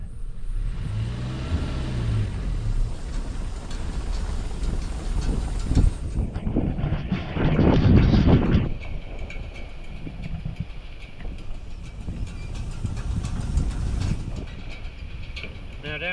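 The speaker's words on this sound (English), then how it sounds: "Like using a truck to rake." A Ford Ranger pickup truck drives across a hay field pulling a hay rake, with a rumbling engine and rattling drivetrain under gusts of wind buffeting the microphone, swelling louder midway before easing back to a steady drone.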